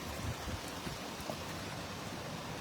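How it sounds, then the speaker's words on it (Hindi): Heavy rain driven by strong winds in the Ramganj area of Ajmer makes a dense, steady hiss that stays even and fairly soft throughout, with no voices. "रामगंज क्षेत्र में भी तेज हवाओं के साथ बारिश हो रही है"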